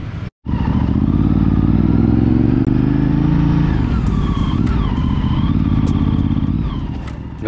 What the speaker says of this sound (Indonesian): kalau kalian lihat di depan itu ada satu motor Ducati Multistrada